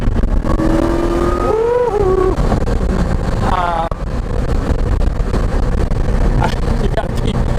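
A Porsche 944 fitted with an LS1 V8 engine drives hard, its loud engine droning and rising in pitch through the gears over heavy road and wind roar, close up and continuous.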